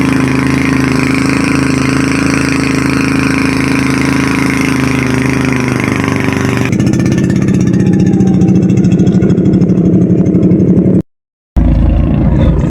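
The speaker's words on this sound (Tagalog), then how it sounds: "pinandar na po ang makina ng aming piloto" A boat engine drones steadily and loudly, then shifts to a rougher, lower idling chug after starting up, running continuously with a brief cutout.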